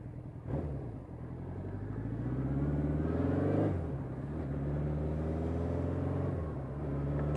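A Suzuki GS1000 motorcycle engine runs close by with an improved exhaust tone, a deep steady idle that rises in a brief rev around the middle and then settles back to a throbbing idle, with no talking.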